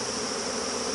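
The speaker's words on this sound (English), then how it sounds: "I'll shake the bees in" Honey bees shaken into a plastic Tupperware bucket make a steady, dense buzzing hum, close and continuous, with no talk over it.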